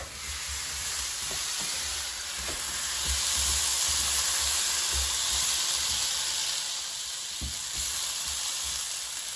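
Asparagus sautés in a stovetop skillet, a loud, continuous hissing sizzle up close with faint taps and scrapes as the spears are stirred, no speech.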